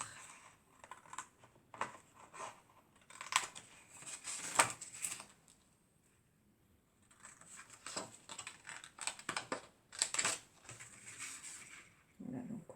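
Scissors cut paper along a drawn line, making bursts of crisp snipping and rustling close by, separated by short pauses and a quiet gap midway.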